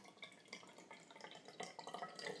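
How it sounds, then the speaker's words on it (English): Ginger bug juice runs through a funnel into a bottle, a light trickling pour with small splashy drips that builds slightly toward the end, close and fairly quiet. "pour my ginger juice in there, ginger bug juice"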